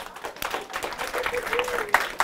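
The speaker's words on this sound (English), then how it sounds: "Round of applause for Red." Brief applause from a small audience at a library magic workshop, a handful of uneven claps mixed with murmuring voices and a short high-pitched child's exclamation near the end.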